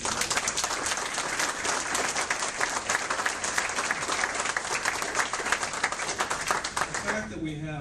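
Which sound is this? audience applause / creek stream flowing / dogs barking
audience applause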